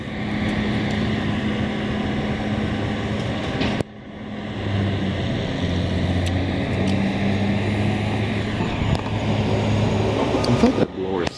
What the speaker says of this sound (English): I thought that blower sounded old too.